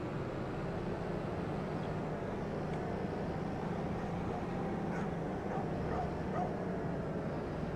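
Dogs bark intermittently in Farming Simulator 25 on a Romanian farm map, faint barks and yips sitting over a constant low rumble of machinery.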